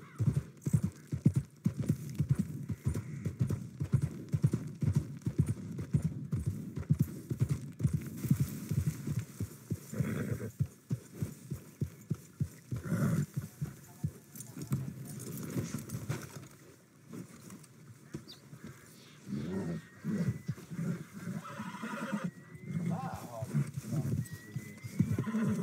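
Horse hooves clip-clop steadily through most of the stretch, with an occasional whinny, in the Red Dead Redemption 2 video game; someone talks over parts of it.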